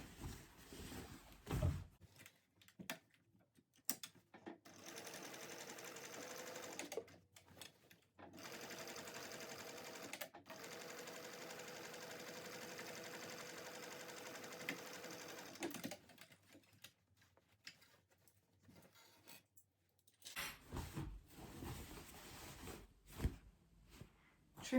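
A sewing machine runs a long, fairly quiet stretch of stitching on a tote bag, framed by handling clicks and bumps at the start and end.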